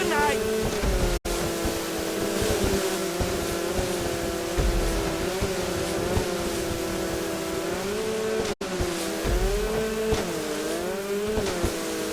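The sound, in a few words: boat race engines in video game GTA V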